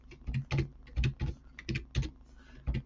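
Quick, light keystrokes on a computer keyboard while entering text in an Excel spreadsheet, a close, soft patter of irregular clicks with short pauses and no talking.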